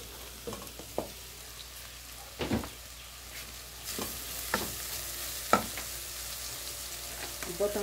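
Chopped green onion and herbs frying in a pan, with a soft continuous sizzle broken by several sharp stirring knocks and scrapes, close up and with no talk.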